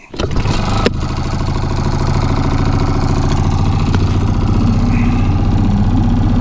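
An outboard boat motor cranks with a short sputter, then catches and settles into a steady, loud, continuous drone as the boat sets out for trolling with large soft-plastic lures.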